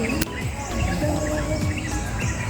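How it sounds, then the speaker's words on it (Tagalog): Birds chirp and call at a campsite near Batlag Falls in Tanay, Rizal in the morning, with varied tweets scattered over a soft outdoor hum and one sharp tap early on. "naririnig ko talaga yung mga huni ng ibon dito"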